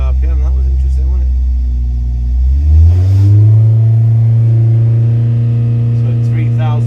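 V8 engine on a dynamometer held at wide open throttle around 2000 RPM: a loud, deep, steady drone that rises in pitch and then holds, close by.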